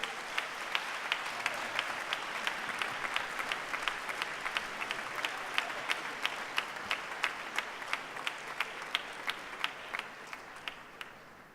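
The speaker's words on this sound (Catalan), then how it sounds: "Un altre fort aplaudiment per a ell, ara sí." Audience applause at an orchestra competition award ceremony, honoring the best conductor prize, with steady clapping and distinct rhythmic claps standing out in a sustained ovation of moderate loudness, no talking.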